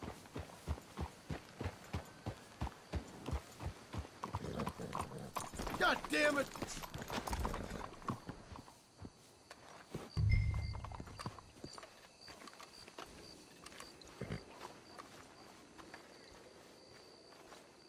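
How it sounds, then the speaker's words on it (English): Horses' hooves clip-clop in Red Dead Redemption 2, a steady run of close, regular hoofbeats with a brief louder burst midway, while a voice talks over parts of it. "Let's hitch the horses up ahead."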